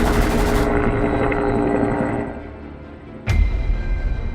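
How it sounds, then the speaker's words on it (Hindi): In an animated cartoon, a helicopter roars loudly under gunfire. The roar fades and drops lower, then a sharp loud burst cuts in near the end as the engine noise surges again. "लेकिन हेलीकॉप्टर से इतनी फायरिंग हो रही थी कि डिटेक्टिव्स कुछ नहीं कर पा रहे थे।"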